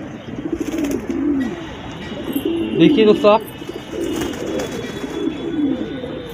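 Household pigeons coo in low, rolling phrases that repeat throughout, close by, while someone talks over them in the middle.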